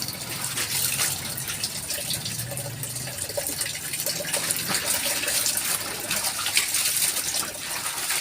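Water running and splashing steadily while laundry is washed by hand, a continuous broadband gush with scattered sloshes close by, no talking.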